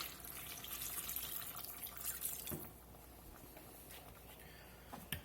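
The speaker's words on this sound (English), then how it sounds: "We're going to add a little more water." Water pours steadily into a cooking pot of bow tie pasta for a few seconds, then stops, followed by quiet drips and a small clink.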